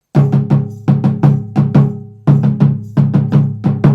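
Warabadon rhythm played on dundun drums with a bell, deep booming drum strokes in repeating groups of short phrases with metallic bell hits over them, close and loud, a brief pause midway before the pattern resumes.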